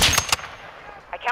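Gunfire rattles in Call of Duty: Modern Warfare II, a few sharp quick shots at the start followed by a brief later burst, with a faint voice-like sound near the end.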